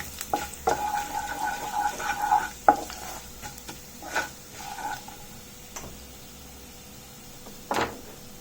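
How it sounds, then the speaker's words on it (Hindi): Cumin seeds and crushed coriander roasting in a pan for a Himachali fagadi dish, with soft sizzling under intermittent scraping stirs and sharp utensil clicks against the pan. "1 टीस्पून हम धनिया डाल देंगे कुटा हुआ, और इनको हम भूनने देंगे"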